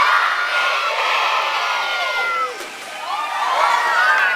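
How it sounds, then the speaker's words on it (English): A crowd at a Taronga Zoo seal show yells together in a loud, sustained shout of many voices, children among them, dipping briefly before swelling again into cheering. "On the count of three, everyone help him out. Let's yell jump Mitchie"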